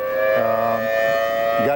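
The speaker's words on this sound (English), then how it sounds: "I believe we're hearing some sirens coming in, and Don Teague is there." A loud, sustained wailing air raid siren holds a steady tone, with a second lower tone briefly joining in, close and continuous throughout, during the Iraq War.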